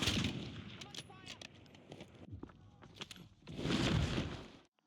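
Gunfire in the Call of Duty Warzone video game during a solo match, with several sharp shots and bursts scattered across a few seconds and a heavier blast near the end.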